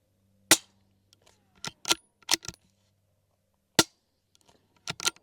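Several sharp, muffled shots from an integrally suppressed 9mm bolt-action rifle fire in an irregular sequence with brief pauses between them, fairly close and clear against a quiet background.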